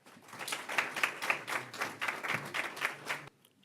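A conference audience applauds to welcome a keynote professor to the stage at an International Women's Day opening bell ceremony. The clapping is steady and fairly full, runs about three seconds, then stops abruptly into near silence.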